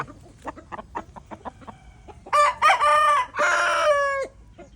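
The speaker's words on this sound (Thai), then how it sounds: "ไก่หนุ่มขึ้นฝูงมาใหม่ๆนะครับ" Young roosters crow loudly in a couple of long, strained calls, preceded by a series of short clucks, close by with no talking.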